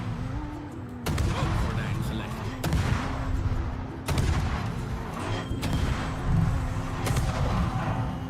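Naval gunfire from ship guns in a video game: several heavy booming salvos at intervals over a low engine rumble, with a voice talking in between.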